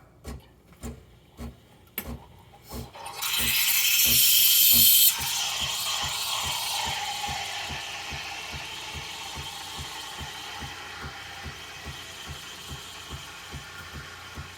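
An espresso machine pulses with rhythmic mechanical ticking throughout; midway its steam wand starts a loud hissing rush, then settles into a softer, sustained hiss frothing milk.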